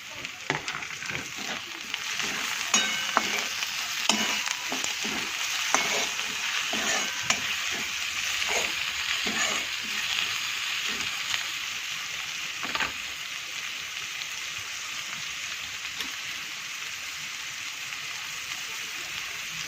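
Chopped tomatoes tipped into a pan of fried onions for a Gujarati sev-onion curry, giving a steady close sizzle with repeated scraping stirs throughout, no talk.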